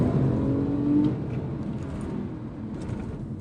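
A Porsche 911 997 Carrera manual engine revs with a rising, tuneful note that peaks early, then settles into a lower, steady hum.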